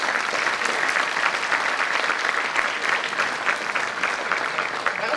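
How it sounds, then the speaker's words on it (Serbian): An audience at a folk ensemble's annual concert applauds in a continuous, dense burst of clapping, loud and even throughout, with no pauses and no voices standing out. "Vaši aplauzi potvrđuju ovo što sam rekla"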